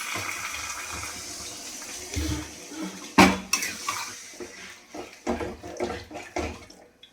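Water poured into a cooking pot of egg curry, a sudden splash and gush followed by bubbling and clinks of utensils against the pot, close and fairly loud, with no speech.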